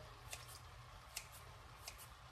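Faint scissors snipping canned whole peeled tomatoes in their juice, a few soft sparse cuts over a low steady background hum.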